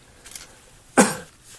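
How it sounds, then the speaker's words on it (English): A single short cough sounds close up after a faint breath, alone against quiet room tone. "I'm gonna cough a bit"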